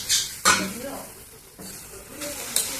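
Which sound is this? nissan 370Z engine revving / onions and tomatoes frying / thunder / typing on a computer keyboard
onions and tomatoes frying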